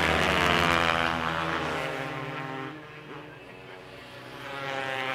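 Racing motorcycles, including a 2022 Kawasaki, roar past on an ice track at over 80 mph, a loud, sustained high-revving engine drone that fades slightly mid-way and swells again, with no talk.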